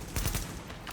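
Gunfire in a video game, shots striking metal railings: a quick burst of several sharp cracks close together in the first half, then a fainter, more scattered tail.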